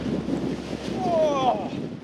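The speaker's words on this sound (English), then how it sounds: "This wind is really picking up." Strong coastal wind at Land's End, Cornwall, roaring steadily across the microphone as a broadband rush, with sea and surf noise blended beneath and a brief faint whistling tone in the middle.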